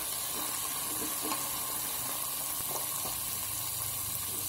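Tomatoes go into fried onions in a pan for a rice and onion curry, giving a steady, even sizzle and hiss that fills the whole stretch without talk.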